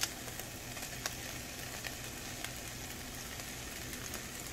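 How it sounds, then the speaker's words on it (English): Spinach cooking in a hot pan, a quiet, even sizzle with occasional soft taps and clicks from stirring, continuous and unaccompanied by speech. "Cook that spinach now"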